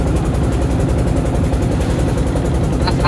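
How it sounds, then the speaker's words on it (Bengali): A trawler boat engine idling at a bathing ghat on Nikli haor, a loud steady low diesel throb with a fast regular pulse, close by and continuous throughout with no talk. "এখানে দেখতে অনেক ট্রলার, বেশিরভাগ ট্রলার এখানেই থামে।"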